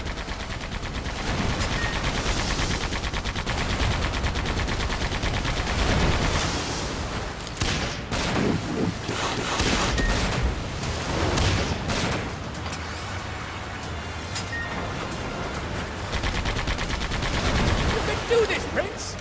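Automatic gunfire rattles against a monster in the video game Sand Land, dense loud bursts continuing throughout with voices speaking over the shooting.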